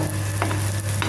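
Thalipattu made from mixed flour fries in oil on a pan. A loud, continuous close sizzle carries a few brief stirring scrapes, with no one speaking.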